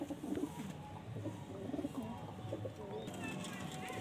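Madrasi pigeons coo in repeated soft, throaty phrases at close range, over a low murmur of background noise.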